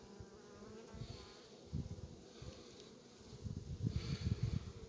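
Honeybees at a hive being inspected after the honey harvest produce a steady, dense buzz that swells and fades in waves, with close thumps and rustles from handling the frames.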